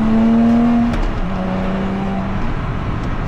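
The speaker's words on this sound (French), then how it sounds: "Et ce son, alors la voiture là elle est équipée d'un silencieux à l'arrière, ça fait un peu de bruit" A Lotus Exige V6 350 with a rear exhaust silencer hums close by with a clear steady engine tone that drops in pitch after about a second and holds. It is loud and alone, with no talking.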